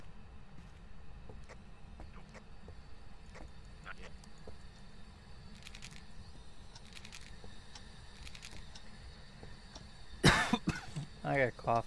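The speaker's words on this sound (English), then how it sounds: "I got a cough for some reason." Near the end a person gives a sudden loud cough followed by a few throat-clearing sounds, after a long stretch of quiet room tone scattered with faint keyboard clicks.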